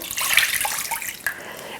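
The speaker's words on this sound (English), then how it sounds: "You just need 250 milliliters, that's 1 cup of water." One cup of water, about 250 millilitres, is poured out in a close, bright, splashing stream that wavers briefly before settling.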